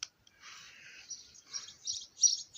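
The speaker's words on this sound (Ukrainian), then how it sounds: "А пташки співають." Birds chirp and twitter in short bursts, fairly faint and at a distance, with no voices.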